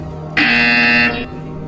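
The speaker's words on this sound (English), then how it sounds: "When you hear the buzzer, turn around and face the server farm behind you." A single loud buzzer from the Portal Stories VR game sounds once for about a second as a harsh, steady electronic honk, close and alone, then cuts off.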